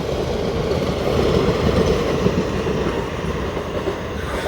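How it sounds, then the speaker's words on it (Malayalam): A Vande Bharat Express train rumbles past close by in fog, a loud continuous roar of wheels and rail noise that holds steady throughout with no voices. "ഞങ്ങൾക്ക് ട്രെയിനിൻ്റെ സൗണ്ട് കേൾക്കാതിരിക്കാൻ പറ്റത്തില്ല"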